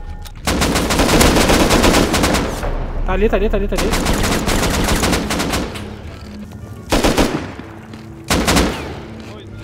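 Bursts of automatic gunfire in the survival game Rust come in long rapid volleys with short pauses, loud and close, then a few sharper single bursts near the end, while a player briefly speaks.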